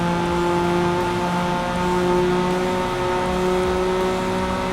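A Honda NSX-R accelerating at Road Atlanta in a racing video game, a loud, steady engine drone with sustained tonal whine as it pulls hard down the long straight.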